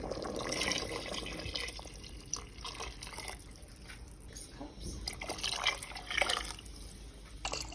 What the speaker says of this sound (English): Now we're going to go ahead and add water.